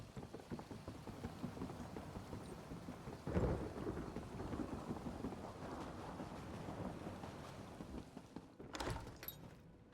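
Rain falls steadily through a thunderstorm in The Elder Scrolls Online, with one close, booming thunderclap early on, a constant patter underneath and a sharp crackle of thunder near the end.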